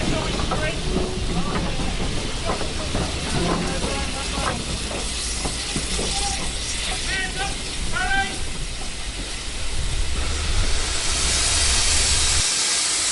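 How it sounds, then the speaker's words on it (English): Two steam locomotives moving out from behind their train at Kidderminster station during the Severn Valley Railway spring steam gala, with loud continuous hissing steam and rumbling, clanking and squealing wheels, plus a whistle-like tone near the end. "we settled in to watch both engines move out from behind their train"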